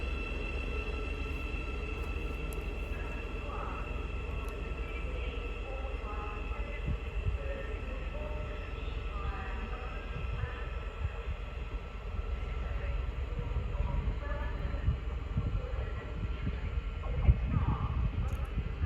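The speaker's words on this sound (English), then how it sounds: "Now departing is the 1438 Thameslink service from Horsham, no, from Brighton to Cambridge." A Thameslink service from Brighton to Cambridge pulls out of Hitchin station on the East Coast Main Line, a steady low rumble and whine of rolling wheels that swells slightly toward the end, with occasional squeals.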